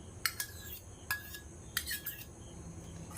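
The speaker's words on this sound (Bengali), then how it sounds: "এটাকে ভালো করে ফেটিয়ে দেবো, খুব সুন্দর করে এটাকে আমি ফেটিয়ে নেব।" Homemade sour yogurt is whisked in a tiffin box, giving three quick clusters of faint, bright clinks from a spoon striking the container against a quiet background.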